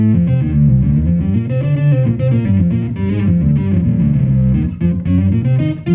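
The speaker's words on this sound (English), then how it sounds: "just with a distortion pedal and an octave pedal." A bass guitar through distortion and octave pedals plays a fuzzy, synth-like, thick buzzing line with layered low and high tones, continuous and loud, with no talking.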